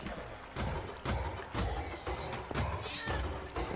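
A cat meows in Minecraft Bedrock Edition, a series of short, clear mews repeating roughly every half second to second, fairly loud and up close.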